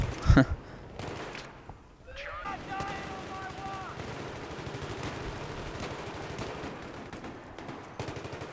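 Sniper fire in the video game Battlefield 3 during a Rush round on Operation Metro: one sharp, loud rifle crack at the start, then a steady layer of distant gunfire and battle noise that carries on to the end.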